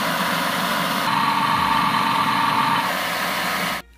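A food processor grinds warm, freshly peeled cashew nuts with a steady, loud, close motor whir and rattling, running continuously before cutting off abruptly at the end.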